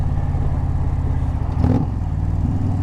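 A deep, throaty motorcycle engine rumbles steadily, with a brief rev partway through, loud and close.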